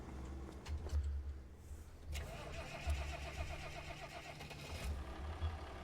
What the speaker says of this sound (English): Let's get this old tractor over here if we don't get it hung up.